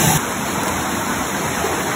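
A waterfall pours as a steady, loud, dense roar of rushing water, unbroken throughout.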